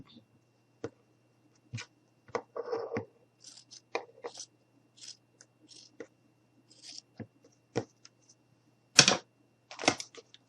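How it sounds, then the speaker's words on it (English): Scissors trimming fabric for a handmade Valentine boy gnome craft, a series of short, close snips and clicks spread irregularly across a quiet room with a low steady hum underneath. "I'm going to take my scissors and I'm just going to trim this up just a bit"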